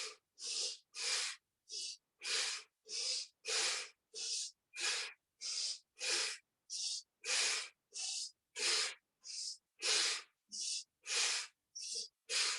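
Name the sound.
breathing in and out during yoga breathing exercise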